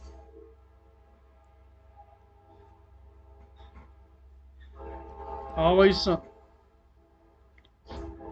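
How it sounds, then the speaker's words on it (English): Train passing outside an indoor airbrush workspace, a low steady rumble running throughout with a brief rising horn-like blast near the end, heard under a person talking. "Here comes that train."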